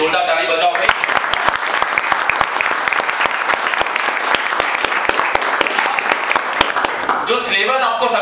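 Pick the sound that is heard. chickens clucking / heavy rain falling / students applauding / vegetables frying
students applauding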